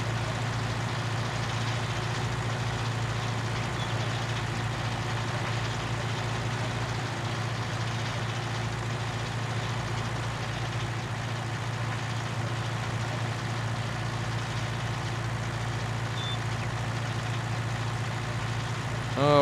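A tractor engine runs in the farming video game Farming Simulator 19, holding a steady low idling rumble for the whole stretch without a break.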